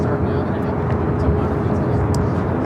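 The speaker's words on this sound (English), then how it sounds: "This is the flight to Tokyo Haneda, Japan Airlines A350 1000." A Japan Airlines Airbus A350-1000 bound for Tokyo Haneda at Los Angeles airport produces a close, loud engine roar with a steady humming whine, and a voice talks over it.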